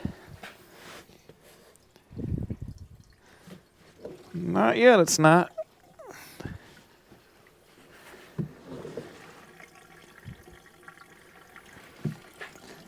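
Gasoline is poured from a can into the fuel tank of a restored Dodge W200 pickup, giving a faint liquid trickle and splash under intermittent talk and a few clunks of the can.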